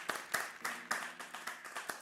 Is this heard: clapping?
yes